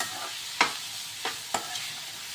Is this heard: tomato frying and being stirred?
yes